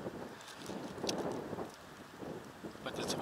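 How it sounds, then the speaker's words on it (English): Wind gusts buffet the microphone on an exposed mountain ridge on the hike up Little Mt Peel, a loud, rough, surging roar that swells and eases over a few seconds. "The wind, the gust of those wind is pretty scary when you're walking across that exposed ridge."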